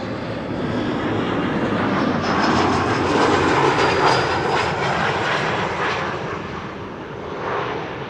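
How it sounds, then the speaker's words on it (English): KLM Embraer 175 jet arriving at Amsterdam Schiphol from Billund, a steady, broad engine roar close by that swells slightly mid-pass and holds without any talk. "KLM Embraer 175, arrival from Billund, flight"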